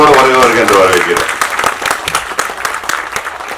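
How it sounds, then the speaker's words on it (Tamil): An audio launch audience for the film Sir breaks into loud, dense applause to welcome director Vetrimaaran, the clapping close and fading somewhat toward the end. "நல்ல பலத்த கரகோஷத்தோடு வருக வருக என்று வரவேற்கிறேன்"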